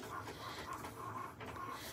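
Cricut cutting machine at work making mug designs, a steady mechanical whir with a repeating motorized tone as the carriage moves back and forth, continuous and fairly quiet with no talk.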